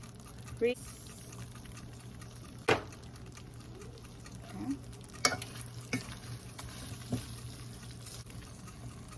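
Beef steak cooking in a pan, with a faint steady sizzle under a low background hum, broken by a few sharp clicks and stirring knocks.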